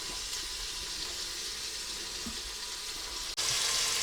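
Chicken frying in a Cosori air fryer pressure cooker gives a steady, close hiss of sizzling that shifts brightness near the end.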